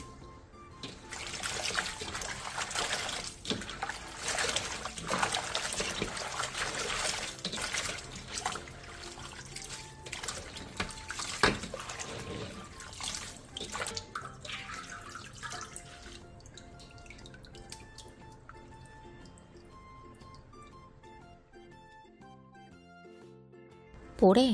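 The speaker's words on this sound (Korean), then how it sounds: "절인 양배추는 물에 한번 헹궈낸 뒤 물기를 충분히 빼놔주세요." Salted cabbage being rinsed in a bowl of water, with close splashing, swishing and dripping that is busiest at first and trails off into scattered drips and light handling clinks.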